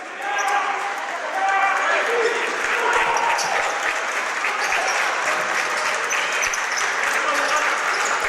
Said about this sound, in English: And the crowd really getting into this game.